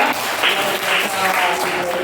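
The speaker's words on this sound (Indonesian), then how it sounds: "Tepuk tangan untuk kita semua ya." A class of schoolchildren applauds together, steady, fairly loud clapping sustained throughout with a slightly uneven texture and no talking on top.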